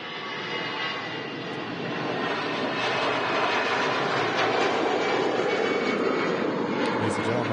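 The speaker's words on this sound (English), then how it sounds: "EasyJet on the way to Paris." An EasyJet airliner passes over Manchester Airport, a broad jet roar that swells and holds steady and loud throughout. Faint talk can be heard beneath it.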